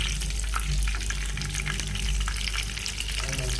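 Fish pieces coated in a spicy masala fry in hot oil, giving off a dense, continuous crackling sizzle with sharp pops scattered throughout, close up and with no voices.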